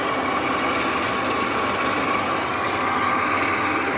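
A metal lathe cuts steel for a hydraulic wood splitter part, giving a steady whirring machine drone with faint crackling as chips break, continuous and close.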